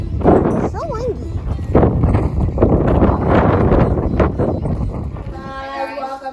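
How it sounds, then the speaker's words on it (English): Strong wind buffets the microphone on an outdoor hill, a loud, rough, continuous rumble that swells and fades, with people speaking through it and a brief animal-like call partway in. "This is so windy."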